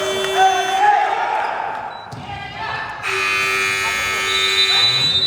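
A loud, sustained electronic buzzer blares over the noisy crowd of an indoor basketball game, with bouncing and shouting throughout.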